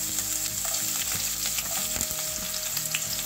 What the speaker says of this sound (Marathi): आणि हे सर्व आपल्याला छान असं परतवून घ्यायचं आहे.